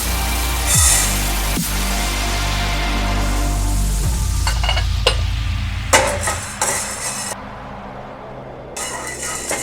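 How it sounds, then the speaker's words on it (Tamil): Black peppercorns dry-roasting in a pan for homemade sambar powder, with scraping and stirring strokes, a few knocks against the pan, and a faint crackle that thins out in brief gaps toward the end. "இப்போ அடுத்து நம்ம இந்த மிளகு வந்து வறுத்துக்கலாம்"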